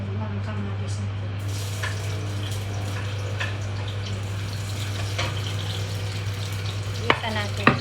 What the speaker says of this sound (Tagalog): igigisa na natin itong mga kamatis natin